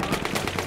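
Gunfire in the Battlefield 1 video game, a fast burst of loud, sharp shots in close succession over less than a second.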